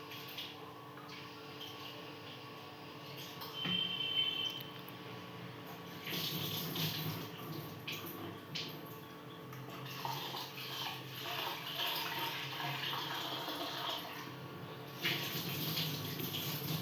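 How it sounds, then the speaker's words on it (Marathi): Mung dal is washed in water at a sink, with running water and swishing splashes that rise and fall over a long stretch, close and moderately loud. "तीन वेळा डाळ धुवून घेतले."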